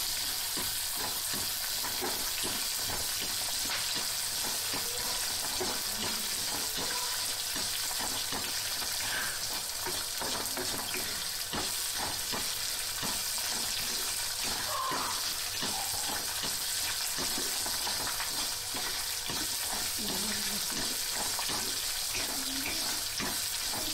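Small onions and curry leaves sizzle in hot oil with fenugreek seeds for a Tamil fenugreek kuzhambu, a steady, fairly quiet crackling hiss with occasional stirring scrapes throughout.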